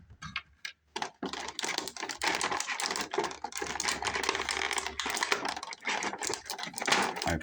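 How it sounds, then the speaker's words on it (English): Crinkly plastic packaging and tape being pulled apart while a McFarlane Toys DC Multiverse Superman action figure is unpacked, a dense run of close, loud rustling and crackling with brief pauses. "Let's get it out of the plastic bit."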